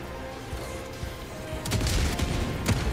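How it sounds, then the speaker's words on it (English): Autocannon turrets in a co-op shooter video game firing a burst of heavy, booming shots, with rapid loud reports rising out of a rumbling battle background. "Autocannon's popping off on this side."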